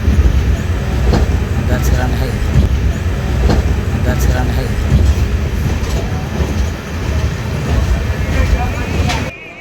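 A passenger train running alongside another train, with a loud continuous rumble and rhythmic clickety-clack of wheels over rails close by, plus faint squeals.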